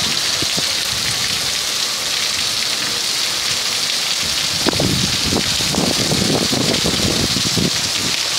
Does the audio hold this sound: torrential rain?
yes